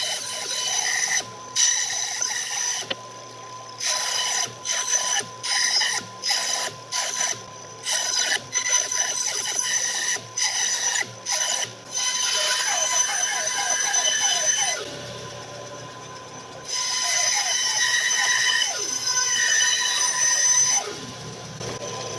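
A Harbor Freight bandsaw cuts a piece for a rainmaker tube in a home shop, a steady machine whine broken by repeated short pauses and a longer stop midway, heard alone without talk.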